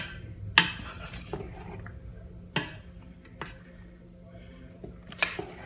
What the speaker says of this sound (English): So I'm going to add a tablespoon of butter. And kind of mix it up.